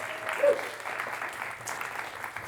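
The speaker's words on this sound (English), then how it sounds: "Round of applause for yourselves." A concert audience in a small live music venue in Leeds gives steady applause, a dense wash of clapping that holds at an even level throughout with no clear speech over it.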